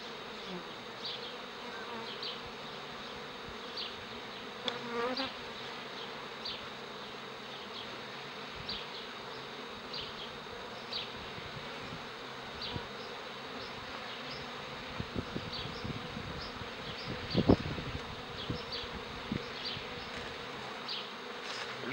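Steady, dense buzzing of many honeybees around an open hive during a queen bee inspection, a continuous drone with occasional louder passes near the microphone and faint handling knocks.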